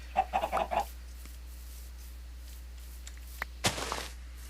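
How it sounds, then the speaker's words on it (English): Chickens cluck in the blocky survival game TerraFirmaCraft, a short burst of four or five quick clucks at the start and a brief rustling flurry near the end, fairly faint over a steady low hum. "there's chickens around here."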